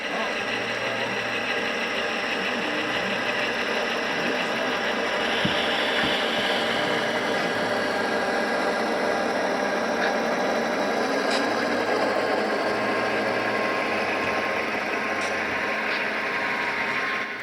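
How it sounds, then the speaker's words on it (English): Model train engines run steadily on a layout, a continuous mechanical whir with faint ratcheting gear clicks and motor hum, sustained and fairly close throughout. "I love the stereo sound of these engines."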